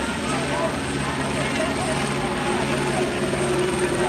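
A helicopter hovers overhead above a street protest near a sheriff's station in South Los Angeles, its steady rotor drone loud and continuous under a reporter's speech.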